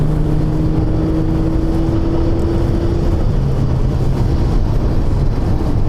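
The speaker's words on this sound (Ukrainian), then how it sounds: "коробка в драйві, вона перший раз скинула на одну, поняла, що замало, скинула ще одну передачу і дивись, і поїхала" A 2000s Audi A6 C6 diesel with an automatic gearbox pulls hard while downshifting, giving a loud, steady engine drone under heavy road and cabin noise, with a gear change audible partway through.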